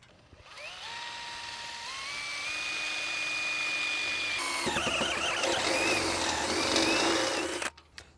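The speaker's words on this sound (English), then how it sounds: "drill a 3/4 inch hole through the universal angle bracket and through the post at the top" A power drill boring a 3/4 inch hole through a universal angle bracket and a post, the motor whining up to a steady pitch before the bit bites in with rougher grinding, then stopping abruptly, close and loud.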